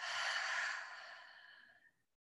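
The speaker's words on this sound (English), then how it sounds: "I know I'm breathing out." Close, quiet breath out in a calm breathing exercise: a smooth airy exhale swelling briefly, then thinning steadily until it fades to silence after about two seconds.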